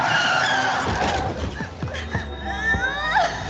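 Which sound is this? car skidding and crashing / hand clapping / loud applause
car skidding and crashing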